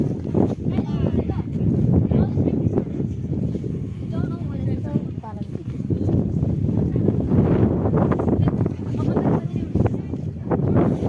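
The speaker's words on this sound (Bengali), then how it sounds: "পুরো হাওয়া।" Strong wind buffets the microphone in continuous gusts, blustery and close, at the Eagle's Crag viewpoint in Kurseong, with a voice speaking now and then beneath the roar.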